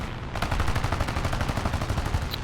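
Rapid automatic gunfire rattles in War Thunder, a dense, continuous burst of machine-gun shots fired in quick rhythm, loud and close, with no talk over it.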